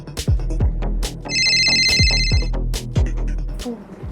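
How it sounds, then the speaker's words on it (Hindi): An incoming call rings on a mobile phone, a repeating ringtone of melodic pulses with a sustained beeping tone, loud and close with no talk. "किसका कॉल है? मेरे पति का फोन है"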